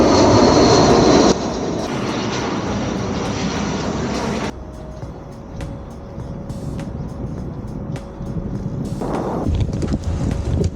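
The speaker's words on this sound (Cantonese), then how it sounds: "The best way to watch aircraft landing." A fixed-wing airliner coming in to land near Incheon roars loudly and steadily from a bike path, its broadband engine noise easing into a quieter hum with a sustained tone, then swelling again near the end.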